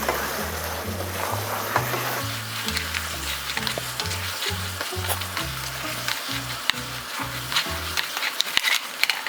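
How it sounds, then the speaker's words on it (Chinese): Sweet and sour pork ribs stir-fried in a wok with sugar and vinegar, a steady close sizzle with rhythmic scraping strokes of the spatula repeating throughout. "糖和醋炒匀"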